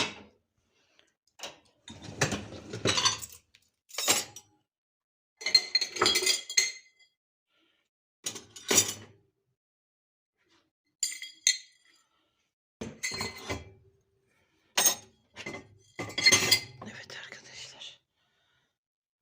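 Glasses and dishes clink in short separate bursts as they are loaded into a dishwasher in a home kitchen, near and fairly loud, with quiet stretches between the clatters and no clear talk.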